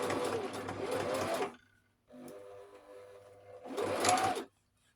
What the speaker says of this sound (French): maintenant, vous allez coudre avec le pied presseur